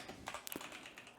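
Quick, light taps on a computer keyboard as a word is typed, a short run of soft clicks close by and quiet, with no voice over them.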